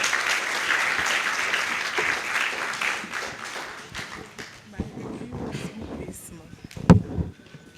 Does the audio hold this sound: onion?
no